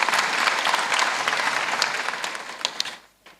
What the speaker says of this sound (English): Please give the minister a round of applause.